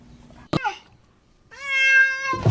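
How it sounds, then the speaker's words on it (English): Scared cat letting out a single drawn-out, strained meow after a short sharp noise, close and fairly loud. "Oh my cat is scared."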